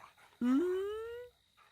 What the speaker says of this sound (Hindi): इधर तो इंसान से ज्यादा कुत्ते हैं।